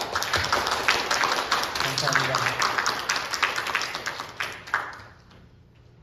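A Salvation Army church congregation claps together at the last Sunday worship service of 2024, a steady, fairly loud patter of many hands lasting several seconds before tapering off, with a voice speaking over it.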